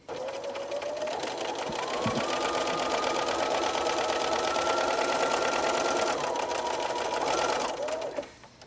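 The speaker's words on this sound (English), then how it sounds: "the next step is to sew a seam 3/8 of an inch" Sewing machine stitching a 3/8-inch French seam while making a fitted sheet from a flat sheet, a close, continuous whirring hum running steadily for about eight seconds before winding down and stopping.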